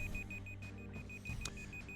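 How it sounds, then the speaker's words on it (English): Electronic beeping repeating in a steady, evenly spaced rhythm of short tones, fairly quiet over a low background hum. "What's the beeping sound?"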